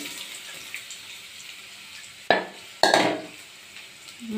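Carrots tipped into a pan of fried curry leaves while cooking carrot fry, giving two short bursts of sizzle and clatter against a steady low frying hiss, close and moderately loud.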